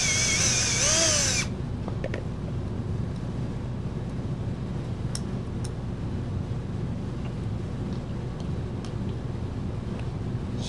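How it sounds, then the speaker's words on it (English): A power drill bores out a worn part from a Toro machine, opening with a brief, loud, high whine for about a second and a half before dropping to a steady low rumble of background noise with occasional faint clicks. "I'm gonna drill this out"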